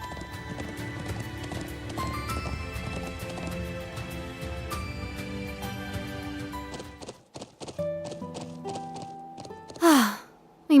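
Horse hooves clip-clop at a steady riding pace in the video game Trails into Reverie, layered under music, then fade out; a whinny or sigh-like sound follows near the end.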